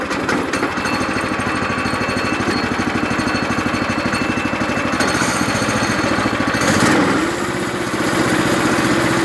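A Predator 420cc engine fitted to a golf cart runs steadily and loud up close, with a rapid, even chugging pulse throughout and a brief shift in tone near the end.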